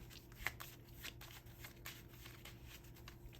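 Soft repeated riffling and flicking of Yu-Gi-Oh trading cards being shuffled by hand, quiet and close, with a low steady hum underneath.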